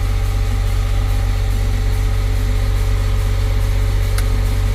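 A newly overhauled CAT 950H wheel loader runs with a loud, steady, low diesel drone and constant hum while its gears are shifted, close to the machine with no talking.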